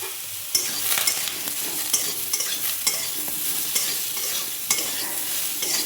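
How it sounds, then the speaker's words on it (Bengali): Brinjal pieces fry in hot oil, salted and turmeric-spiced, in a home kitchen, giving a continuous close sizzle broken by repeated scraping stirs from a spatula, with no talking. "বেগুনটা আমি ভেজে নেব। বেগুনটা ভাজতে ভাজতে একটু নুন হলুদ দিয়ে দেব।"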